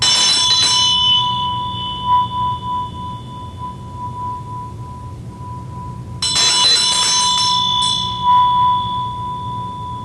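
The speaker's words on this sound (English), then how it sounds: "a bell and a dorji" A ritual hand bell, used alongside a dorje, is struck and left ringing with a long, pure sustained tone, then struck again about six seconds later with a bright attack and a lingering hum, alone and close.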